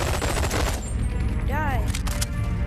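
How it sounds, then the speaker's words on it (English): Gunfire in the VR game Bonelab: a burst of sharp shots rings out amid noisy game sounds, with a brief electronic warble in the middle. "When I shot the gun, it alerted the Omni projectors."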